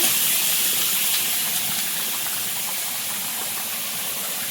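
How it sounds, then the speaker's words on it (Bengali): Shrimp fry lightly in hot oil in a pan, giving a loud, steady, close sizzling hiss that slowly eases off, with no talking. "এদিকে চিংড়িটা হালকা একটু ভেজে নেব"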